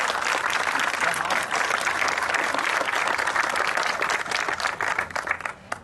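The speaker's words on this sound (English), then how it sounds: "Yes, I'm clapping for my building." Applause from a crowd at the ribbon-cutting ceremony for a new building, East Hall: dense, continuous clapping that holds steady for several seconds, then starts to thin out near the end.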